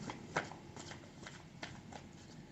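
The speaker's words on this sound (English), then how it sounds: "I will give it a good shuffle 2 more times." Quick papery riffling of a tarot deck being shuffled, a few crisp bursts at close range, fairly quiet and with no one talking.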